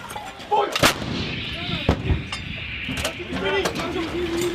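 US Marines firing an M777 howitzer during a training exercise at Twentynine Palms: sharp, heavy booming reports, the loudest one followed by rumbling echoes rolling across open ground, with people talking and calling out between shots.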